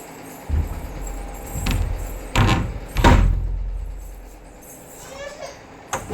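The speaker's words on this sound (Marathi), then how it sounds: "दरवाजा बंद करते" A door is shut indoors at night, with two solid thuds about half a second apart against a low background hum, followed by quieter faint movement.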